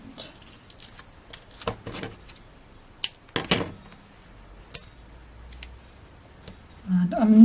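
Close, crisp scissor cuts trim card edges where foam pads overhang during cardmaking, with scattered snips and light paper handling in a quiet room before a louder rustle at the end.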